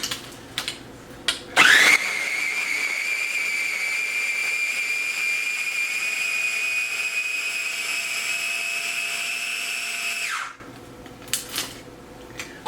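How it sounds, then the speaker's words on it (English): A food processor grinds cherry-recipe ingredients until crumbly, a loud steady high-pitched whir running about nine seconds after a quick start-up, then cutting off sharply, with a few clunks before and after. "And you just want to let that go in your food processor until everything is nice and crumbly."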